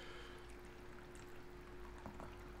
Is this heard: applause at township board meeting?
no